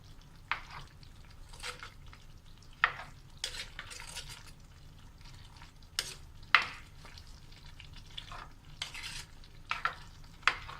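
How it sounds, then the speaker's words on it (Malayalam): A spoon scrapes and stirs chicken green peas curry masala in a pan, giving about a dozen short, sharp scraping strokes at an uneven pace over a faint, low sizzle. "നല്ലപോലെ ഒന്ന് മിക്സ് ചെയ്ത് കൊടുക്കാം."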